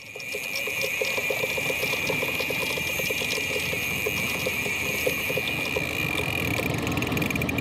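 Boat engine idling at low speed while nearing a pier on a fishing outing, a steady, close putter with a fine rapid ticking that holds evenly throughout.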